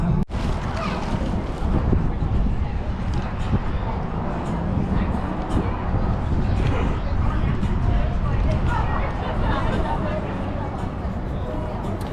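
Strong outdoor wind buffets the microphone in steady broadband gusts, loud and continuous throughout, at an outdoor spot in Waco, Texas, where people are sipping elderflower and rose lemonade.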